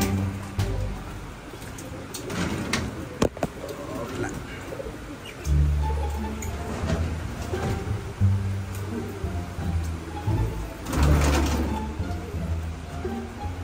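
Racing pigeons in a small loft give repeated low, throaty coos, some overlapping, close by, with faint chirps and rustling around them.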